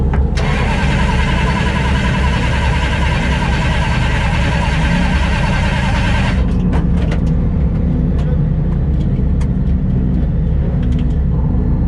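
A car at a race start line cranks without catching, giving about six seconds of loud, continuous whirring starter noise that cuts off abruptly, followed by a few faint clicks and quiet.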